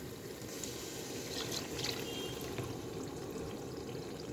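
Meat stock for Nigerian beef stew pours into a pot with a soft, steady trickling and splashing that stays quiet and continuous throughout.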